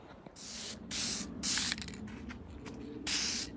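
Aerosol can spraying Eastwood Golden Cad coating onto Mercedes R107 window regulator parts, four short bursts of bright hiss close by, each lasting under half a second with brief pauses between.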